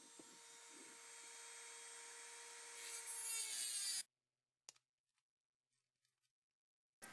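A cutting blade grinds through a metal nut, a steady high whining drone that rises and sharpens for about four seconds, then stops abruptly, followed by a few faint clicks and knocks in near silence.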